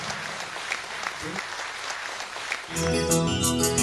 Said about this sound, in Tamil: லண்டன் மாநகரிலிருந்து வந்திருக்கும் ஹரிச்சரனுக்கு உங்கள் அன்பு கரகோஷம் உற்சாகம் தரட்டும்